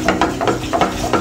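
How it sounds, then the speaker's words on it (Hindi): Gram flour mixed with mashed green peas being roasted and stirred in a pan over a very low gas flame for matar kachori filling, giving soft rhythmic scraping strokes about every third of a second with a faint steady sizzle underneath. "तो इसको भून लेंगे अच्छे से, गैस का फ्लेम मैंने एकदम लो कर दिया है, इसको भूनेंगे"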